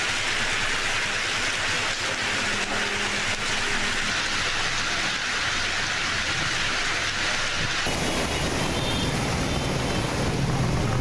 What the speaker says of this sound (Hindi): पंजाब के मुख्तलिफ शहरों में मानसून बारिशें जारी।